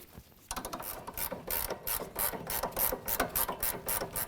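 A ratchet wrench tightens the nut on a front sway bar link of a 2010-2015 Kia Sorento, giving rapid, close, metallic clicking in quick bursts after a brief quiet start.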